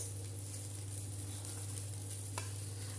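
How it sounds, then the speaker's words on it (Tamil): A pot of appalam puli kulambu, a tamarind curry with papad, simmers with a soft, constant bubbling hiss over a low steady hum, quiet and close. "இந்த புளி தண்ணி வந்துட்டு கொதிக்கட்டும்"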